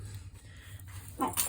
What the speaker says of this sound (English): That's my dog rolling on his back.